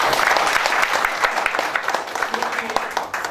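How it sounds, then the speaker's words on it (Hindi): Strong burst of applause from an audience at a product training session, dense clapping with sharper individual claps poking through, loud and continuous for the whole moment. "एक बार जबरदस्त ताली होनी चाहिए"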